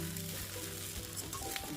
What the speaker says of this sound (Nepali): फलामको कराई वा फलामको योकमा चाहिँ मजाले 3-4 मिनट फ्राई गरेको हुनुपर्छ